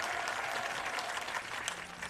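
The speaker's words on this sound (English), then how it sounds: "And the slow clap." Distant crowd applause at a college baseball tournament game, a steady wash of many hands slow-clapping at a moderate pace, fairly faint and continuous.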